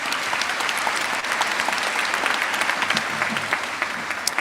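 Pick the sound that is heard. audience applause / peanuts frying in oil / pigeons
audience applause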